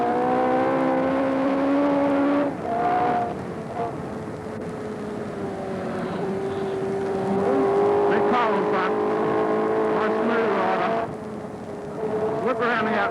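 Production motorcycles race at the 1981 Easter Bathurst races on Mount Panorama, their engines whining and shifting pitch as they pass, partly under a commentator's voice.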